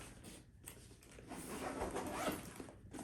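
The main compartment zipper of an Under Armour Steph Curry backpack is drawn open in one long, continuous rasping pull, close and fairly quiet, with no talking.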